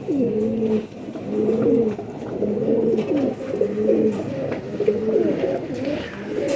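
Pigeons coo close by in repeated soft, throaty phrases, one call following another in a steady rhythm over faint background noise.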